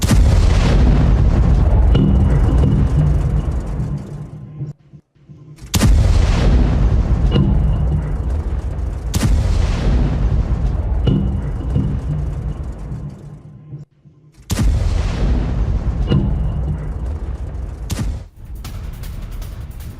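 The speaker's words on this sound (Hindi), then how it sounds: "लेकिन इसके बाद जो मलबा गिरा उस मलबे से भी एक बड़ा धमाका हुआ।" Several loud, deep booms in succession, each followed by a long rumbling decay, heavy and continuous with no speech: falling drone debris exploding in Moscow.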